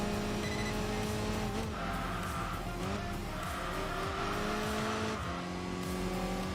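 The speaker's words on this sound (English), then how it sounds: "Little turbocharged inline 4." A turbocharged inline-four Saab engine in the Enthusia racing game drones loudly and steadily, its pitch rising and dipping through gear changes while tires squeal over the top.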